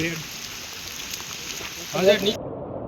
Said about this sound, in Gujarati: વરસાદ છે ખતરનાક અત્યારે